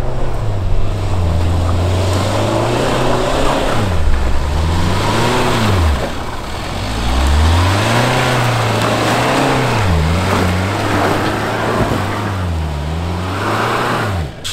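Jeep Wrangler engine on a muddy off-road traverse, loud and close, rising and falling repeatedly as the throttle is blipped and released, running continuously throughout.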